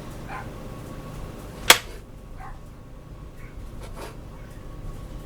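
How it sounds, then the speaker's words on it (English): A small dog barks outside in a few faint, distant yips spread over several seconds, with a single sharp close click standing out in the otherwise quiet background. "I hear my Mitzi out there. I love that little dog"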